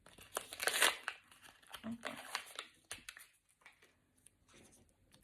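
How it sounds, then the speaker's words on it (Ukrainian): A thin plastic packet sealed with tape is ripped open by hand, a series of loud, close crinkling and tearing bursts, busiest at the start and then thinning into scattered rustles. "Це дуже простий пакетик, тому я його буду рвати безжалосно."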